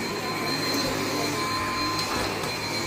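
A Dyson DC78 vacuum cleaner runs on carpet with a constant, fairly faint high-pitched whir and airy hiss.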